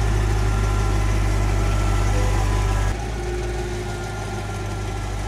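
A 40,000 pound forklift's engine idles loudly and steadily with a deep low rumble, then drops to a slightly quieter, smoother drone about halfway through, with no one talking.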